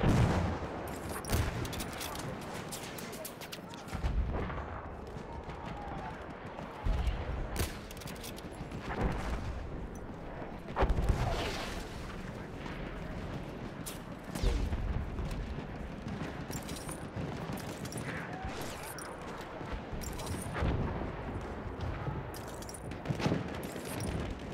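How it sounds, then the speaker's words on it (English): Sustained battlefield gunfire from Battlefield 1 multiplayer operations, bursts of machine gun fire mixed with scattered rifle shots and distant explosions, loud and continuous with repeated heavy impacts across the whole stretch. "There's a machine gun."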